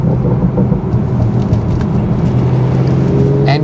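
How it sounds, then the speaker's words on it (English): A car downshifting with automatic rev matching during daily driving, a loud low engine drone with a brief rev blip near the end, no talk. "the car is giving me the perfect amount of revs to switch gears down"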